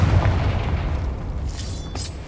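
A Confringo fire spell bursts in Hogwarts Legacy, a loud booming explosion with a heavy low rumble that rolls on for a couple of seconds, followed by a few sharper crackling pops near the end.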